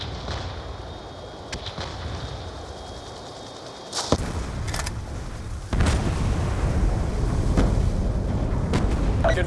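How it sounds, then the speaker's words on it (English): A video-game airstrike in Black Ops 2 slams into a ship: a sudden loud explosive boom, followed by sharp blasts and a sustained roaring rumble of fire and debris, with scattered cracks over a steady background hum. "Airstrike unit inbound."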